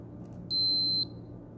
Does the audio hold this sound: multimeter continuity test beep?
yes